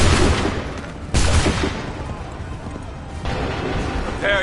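Musket volley in Assassin's Creed 3, a couple of broad, loud bursts of gunfire crashing out between stretches of battlefield noise, with a commander's voice shouting orders nearby.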